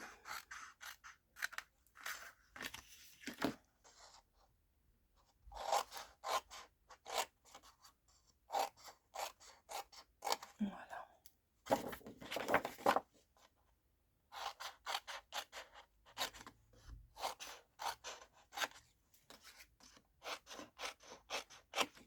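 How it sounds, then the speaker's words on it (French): Wood is cut at an angle on both sides for a small birdhouse, giving bursts of close, rough cutting and scraping strokes in uneven runs with short pauses between them. "je vais venir couper en biais des deux côtés."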